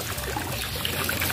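Water pumped back into a backyard aquaponics fish pond, trickling and splashing in a steady, continuous stream close by, with no voices over it.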